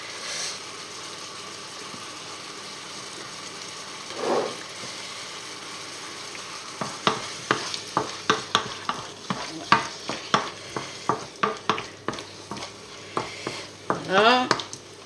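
Squid cooking in a pan for a Basque-style dish, with a steady sizzle and a run of repeated scraping, stirring strokes from about seven seconds onward, close and fairly loud.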